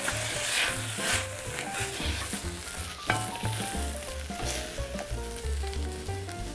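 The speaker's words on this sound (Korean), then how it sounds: "양파 노릇노릇하게 캐러멜 직전까지 좀 볶아줄게요." Sliced onions sauté in a pan until golden and almost caramelized, giving a loud, continuous sizzle broken by scattered clicks and scrapes of stirring.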